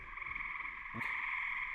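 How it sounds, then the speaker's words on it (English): Frogs croak in a dense, unbroken chorus beside a river at night at a campsite, steady and fairly loud throughout, with a brief low thump near the middle. "Frogs are going crazy out here"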